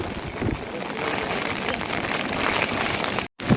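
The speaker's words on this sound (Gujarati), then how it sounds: "ખેતરોમાં તો મિત્રો પાણી ચડવા મીન્યા છે અને હજી વરસાદ ચાલુ છે." Heavy rain pours steadily over flooded farm fields in Gujarat, a dense continuous wash of drops close to the microphone with some wind buffeting, cutting out briefly near the end.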